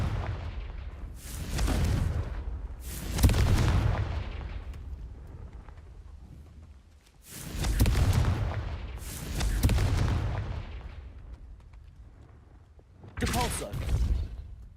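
Confringo fire spell explosions in Hogwarts Legacy, a series of booming blasts, roughly five or six, arriving in clusters with rumbling decays between them, loud and close.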